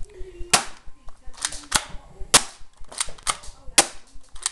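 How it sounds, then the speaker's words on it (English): Sharp, loud pistol shots from an M39 Desert Eagle fired outdoors, five cracks spaced about a second apart, each with a brief ringing tail, close to the listener. "That was one shot."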